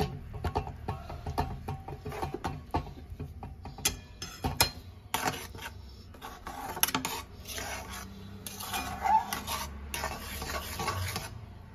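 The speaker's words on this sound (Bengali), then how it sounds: "এবার চিজটা ভালো করে মিক্স করে নেব।" A cheese mixture for chicken bread rolls is stirred and mixed in a bowl, with close, continuous scraping and rubbing strokes and soft clicks of a spoon against the sides.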